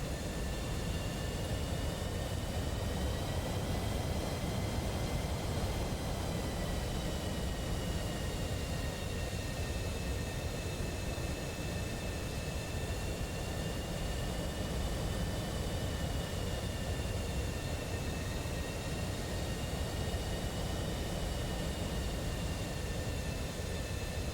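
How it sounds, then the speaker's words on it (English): An F-15 fighter jet taxiing in a flight simulator gives a steady, loud, unbroken engine roar with high whining tones that drift slightly, holding constant for the whole stretch with no talking. "While the F-15 is taxiing along."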